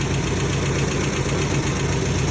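An MGB engine fitted with an aftermarket exhaust header idles loudly and steadily up close, a constant, even rumble with a faint rhythmic pulse and no voices.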